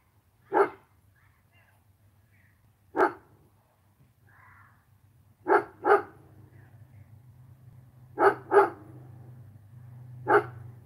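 A pet dog barks in sharp single and paired woofs spaced a few seconds apart, loud and near, with a low steady hum underneath and no talking over the barks.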